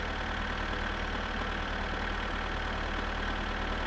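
A car engine in My Summer Car drones steadily at high revs, a constant loud mechanical hum with no clear rise or fall and no speech.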